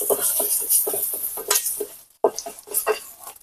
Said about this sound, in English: I'm going to fold some of these eggs